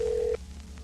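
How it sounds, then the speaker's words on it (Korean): A telephone keypad sends a single steady dialing tone for about a third of a second, clear and close, then cuts off leaving faint low hum. "저희 YPM이 해당 번호와 직접 전화 연결을 시도했습니다"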